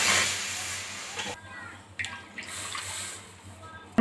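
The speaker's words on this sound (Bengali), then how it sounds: "কড়াতে আমি ওই সুজির মাপে 2 বাটি দুধ দিয়ে দেবো" Milk pours into a wok on a gas stove in a short, soft splashing stream that stops after about a second. A few faint drips and light clinks follow.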